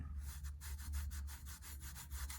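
A coffee mug rubbed and brushed by hand, a steady rhythmic scrubbing stroke repeating close up and quietly, with no talk.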